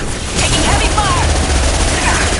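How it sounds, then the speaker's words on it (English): Heavy gunfire rattles in Mass Effect 2 as a loud, dense barrage of rapid shots that keeps up without a gap through the whole short burst. "Taking heavy fire!"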